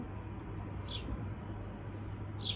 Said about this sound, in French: il y a les petits oiseaux, ils sont là tout partout